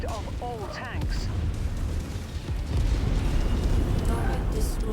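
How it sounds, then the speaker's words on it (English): An ammo explosion in MechWarrior 5 gives a loud, sustained, roaring blast that swells over several seconds. It sits among heavy combat rumble, with radio voices talking over it. "Oh, we got an ammo explosion."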